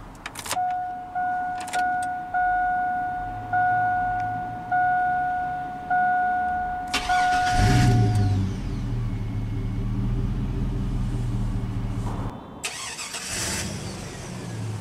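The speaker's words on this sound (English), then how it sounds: "let's go ahead and start the engine." Starting a 2000 Chevrolet Silverado 1500 LS regular cab pickup: door chimes ring in a repeating pattern, then the starter cranks and the V8 catches and settles into a steady idle, with a click and shift near the end.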